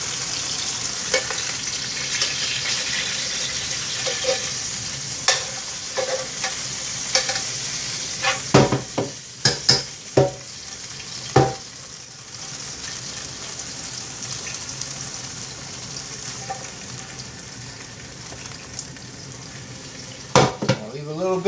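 Turkey sausage frying in oil in a pan, a steady loud sizzle running throughout, broken by sharp clanks and scrapes of a utensil moving the links around, with no talking.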